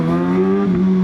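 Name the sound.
Kawasaki ZX6R inline-four motorcycle engine revving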